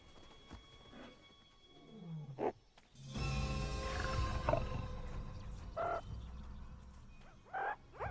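A Kalahari desert lion lets out a loud, rumbling roar that swells for several seconds amid sparse grunts and faint animal calls in open desert.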